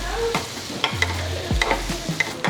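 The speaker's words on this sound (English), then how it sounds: "And I'm going to baste the fish until it's cooked." Small fish fillets are basted in a frying pan, with a close, steady sizzle broken by quick spoon scrapes and clinks against the pan.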